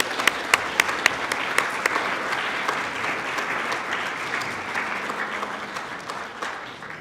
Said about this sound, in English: let's give them a round of applause for encouragement